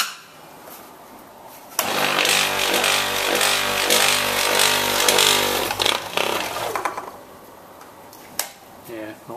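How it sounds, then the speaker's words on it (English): A faulty Copeland scroll compressor running without pumping, a loud rough mechanical drone with a steady pulsing rattle that starts abruptly, holds for several seconds, then cuts back to quieter background clatter. "the compressor's not pumping. So it's going to sit there and run, doing nothing"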